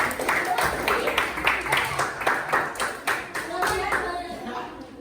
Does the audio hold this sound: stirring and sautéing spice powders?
no